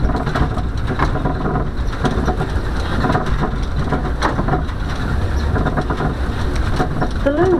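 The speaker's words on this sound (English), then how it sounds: "Passing through the monorail sidings." Beaulieu monorail train running along its track past the sidings, a steady continuous rumble and rattle of the car on the rail throughout, close and fairly loud with no talk.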